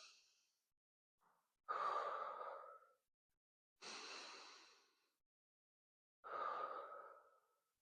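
Deep, audible breaths during a core and pelvic floor exercise, with three long, forceful exhales spaced a couple of seconds apart and a short inhale between them, heard close up with no talking.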